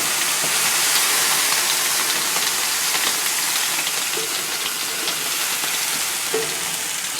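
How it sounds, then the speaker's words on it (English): Steady, hissing steam from steam cleaning a Shirley Fabrication cooker at around 300 degrees fills the clip, a broad continuous rush with faint clicks and pops underneath. "show a lot of steam coming off, but you can hear that"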